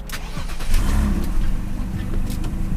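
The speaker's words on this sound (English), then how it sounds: "Okay, just want the car idle for a few minutes." A BMW E46 idles on a dyno, its engine a steady, loud low rumble that runs unbroken throughout with a few faint higher clicks over it.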